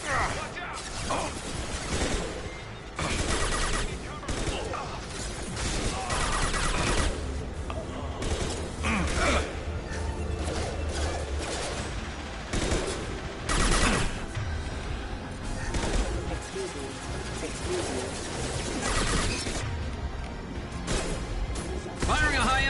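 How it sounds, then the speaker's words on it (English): Combat in Mass Effect 2 Legendary Edition, with bursts of gunfire, impacts and crashes following one another at a dense pace, loud and near, over a steady game soundscape, while a voice talks throughout. "Firing a high-impact shot!"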